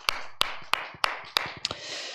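A handful of sharp, evenly spaced claps ring out, about six in two seconds, from a health-lecture audience at Eden sanatorium hospital giving encouraging applause; sparse and moderately close rather than a full crowd ovation.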